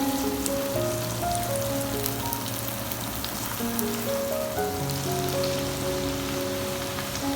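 Garlic frying lightly in a pan while making lauki chicken (kaddu gosht), giving a steady, even crackle and sizzle that holds at one level throughout with no talking.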